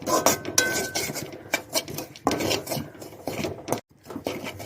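Rusk pieces being dry-roasted in a pan for a sweet halwa, giving repeated scraping and clinking of a spoon against the pan in irregular bursts, close and fairly loud with brief pauses.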